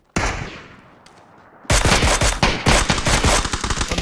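Rapid bursts of automatic gunfire in PUBG, a faint shot followed by a loud, dense stream of close-range shooting with repeated sharp cracks.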